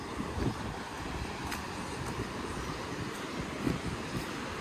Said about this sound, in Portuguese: Tá ventando, não sei se o áudio vai sair bom.